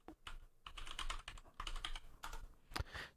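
Rapid keystrokes rattle on a computer keyboard during a live coding session building an ASP.NET API in Visual Studio for Mac 2022, with bursts of typing and a sharper key press near the end, close and moderately loud with no talking.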